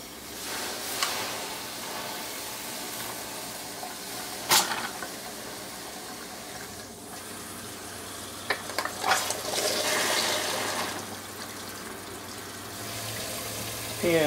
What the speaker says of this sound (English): Bring it over to the sink and cool it off.